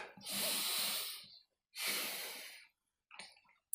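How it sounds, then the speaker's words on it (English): A slow, deep breath drawn in and let out through the nose, with a long airy inhale and a matching exhale, followed by a shorter faint breath, close and quiet with no talking. "Please take a deep breath."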